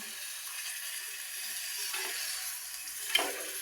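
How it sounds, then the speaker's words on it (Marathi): Water poured into rice frying in oil sets off a steady bright hiss and sizzle, fairly close, with a couple of brief louder splashes near the end. "आता पाणी टाकत आहे, तुम्ही पाहू शकता."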